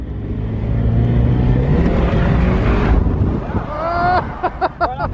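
A car's engine roars and revs hard during an aggressive clutch kick on an airstrip, loud and close with heavy wind buffeting, then drops away into sharp rising revs and short bursts near the end; a voice is faintly present.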